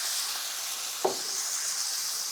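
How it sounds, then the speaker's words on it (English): Wine hissing and sizzling steadily in a hot pan while deglazing braised pork shank, with one brief scrape of a wooden spoon across the pan bottom, close and continuous. "scrape the bottom of that pan to bring up all those great little brown bits back into our sauce"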